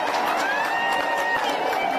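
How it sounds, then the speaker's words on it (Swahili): A crowd gives sustained, dense applause welcoming Ann Kananu as Nairobi's new governor at her swearing-in ceremony, heard as an even roar of clapping with no break. "Tumukaribishe governor na makofi."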